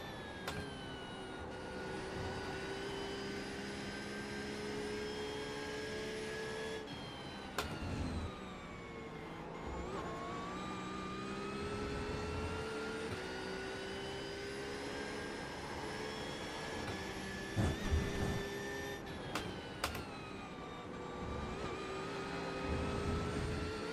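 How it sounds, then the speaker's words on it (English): A Ford Mustang race car roars past at an IMSA endurance race at Road Atlanta, loud engine howl rising and falling with gear shifts, joined by other cars passing over about 24 seconds. "Mustang fast through there"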